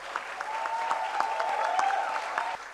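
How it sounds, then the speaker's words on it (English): Applause from a quiz competition audience for the runner-up, a steady clapping wash lasting a few seconds with a faint sustained tone running beneath it, fairly distant and moderate in level. "He deserves a thunderous applause."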